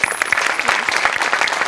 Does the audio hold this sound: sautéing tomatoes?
no